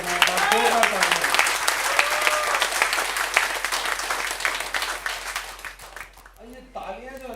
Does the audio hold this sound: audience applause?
yes